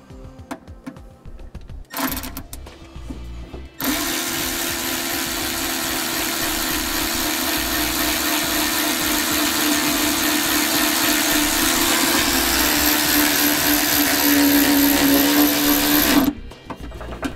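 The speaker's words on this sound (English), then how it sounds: "We're gonna attach this to the body of the vehicle with the self-tapping screw provided with our install" Power driver driving a self-tapping screw into the body of a 2012 Volkswagen Jetta, a short whir followed by a long, loud, steady high-pitched motor whine that stops abruptly, with no talking.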